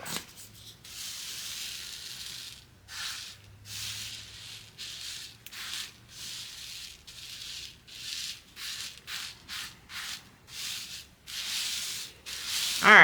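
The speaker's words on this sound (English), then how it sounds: "so I'm rubbing them in right now" Rhinestones rubbed by hand onto a shirt over a taped-off design, a continuous rhythmic scratchy rubbing in short strokes, close and fairly loud, with no talking.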